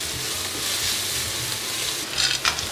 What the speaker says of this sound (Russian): Чесночок, лук. Когда начнет золотиться, будем добавлять все остальные овощи для обжарки.